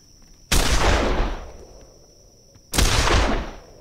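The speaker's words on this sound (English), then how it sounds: "they are shooting at something they can't see, even though I'm at the other side of the wall" Two loud gunshot blasts from enemy weapons in the video game This Land Is My Land, each a sharp crack with a long booming decay, spaced about two seconds apart over a steady high whine.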